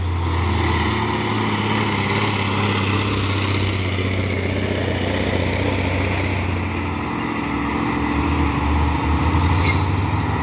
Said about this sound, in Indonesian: Terus truk tangki CPU Jaya Pratama.